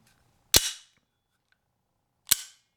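Two sharp, close gunshots ring out from a 50-year-old single-action pistol at a range, spaced nearly two seconds apart, each a loud crack with a short decaying tail and quiet between.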